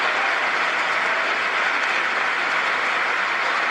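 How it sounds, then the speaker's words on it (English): An assembled audience gives sustained, unbroken applause at a political address in Washington, D.C., a dense, even wash of clapping that holds steady at full strength throughout with no talk over it. "This is straight applause for like 30 seconds"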